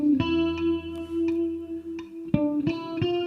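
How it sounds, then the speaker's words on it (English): A few notes picked on a guitar run through effects, with a sustained ringing tone, several plucked notes on top and a distorted, echoing character, playing alone without voices. "I just recorded with my guitar a few notes."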